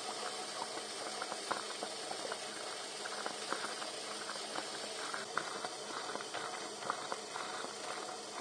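Water boils steadily inside a homemade stainless steel water distiller, giving a soft, continuous hissing bubble with small irregular pops and patters, quiet and even from start to finish.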